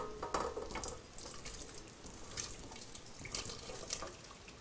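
Mushroom and spinach soup is poured from one pan into another, giving a faint, uneven liquid splashing and trickling with a few soft clinks, close and quiet, with no talk.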